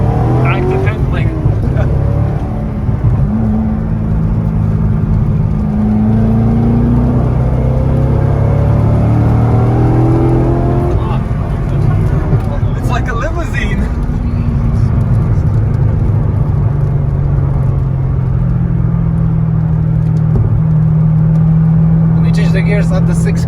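A Chevrolet Corvette C6 Z06 with the LS7 engine revving through the gears, its rising engine tones climbing repeatedly in loud continuous runs under cabin talk.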